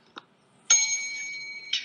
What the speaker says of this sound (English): God, that bell, I fucking missed it.